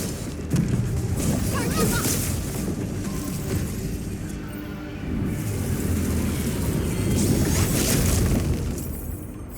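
An anchor is destroyed in a video game, producing a sustained, loud rumbling blast with crackling debris that swells and holds over several seconds.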